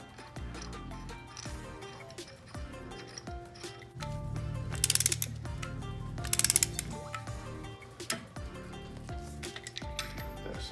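A nut is tightened on an all-thread bolt to press on a crank pulley on an LS 5.3 engine, with steady close ratcheting clicks and metallic mechanical rattling throughout, louder in the middle.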